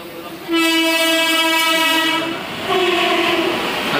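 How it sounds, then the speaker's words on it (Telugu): A Rapti Sagar Superfast Express sounds a long, loud horn blast as it passes, then a second shorter blast follows over the steady roar of the passing train close by. "అదిగోండి Rapti Sagar super fast express"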